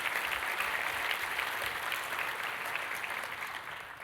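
Audience clapping at a LinuxCon + CloudOpen conference talk, a moderate, even patter of many hands across a hall that gradually fades toward the end, with no talking.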